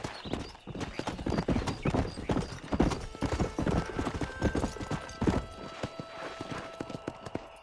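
Horse hooves clip-clop at a gallop in the Western video game Red Dead Redemption on Xbox 360, a steady fast rhythm with occasional whinnies, close and loud, with no talk over it.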